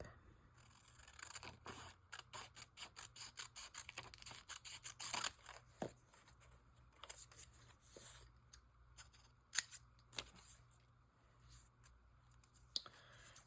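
Scissors cut paper for a reading journal. Quiet, close snips and clicks come in quick runs and then scattered single cuts, with faint handling noise between them.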